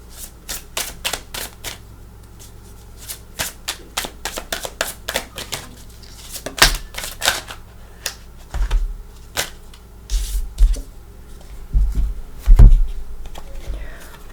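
Tarot cards are shuffled by hand in a rapid run of crisp flicks and riffles. Then come slower slaps and soft thumps as the deck is split and stacked, all close up and fairly loud.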